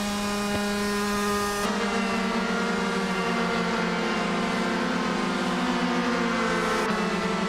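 A 2012 shifter kart engine in a racing video game drones at high revs, with steady whining harmonics that shift pitch as it accelerates and changes gear. No voices are heard.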